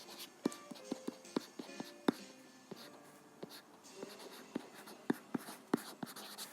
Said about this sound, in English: I'm just going to write this out in my rubbish handwriting